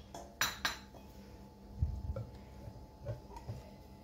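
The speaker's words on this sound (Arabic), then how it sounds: "الكاكاو حتى هو غادي نبقى نزيد شويه بشويه ونخلط المكونات كلها" Cocoa and cake ingredients being stirred together in a mixing bowl for a chocolate cake batter, with a few light clinks and taps of a utensil against the bowl, quiet and sparse, no talking.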